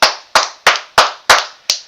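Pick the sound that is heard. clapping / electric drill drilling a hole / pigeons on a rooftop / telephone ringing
clapping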